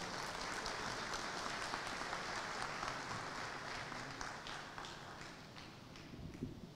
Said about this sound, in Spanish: Con cálidos aplausos recibimos a nuestro fundador.